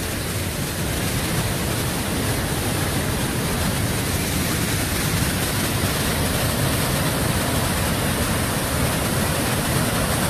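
A fast-flowing river below Curug Bengkawah waterfall in Pemalang, Indonesia, rushing in a loud, dense, unbroken roar of white water that stays constant with no voices over it.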